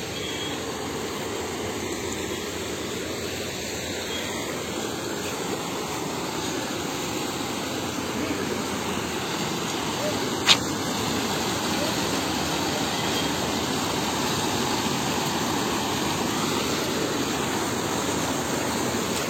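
A waterfall beside a small temple gives a steady, even rushing roar throughout, with one sharp click partway through.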